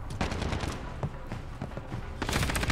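Rapid bursts of automatic gunfire in a Modern Warfare multiplayer match, loud and close, with short pauses between volleys and a heavier burst at the end.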